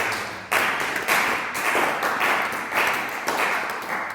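A church congregation claps together in praise, quick bursts falling in a steady beat about twice a second, loud and close. No voices rise above the clapping.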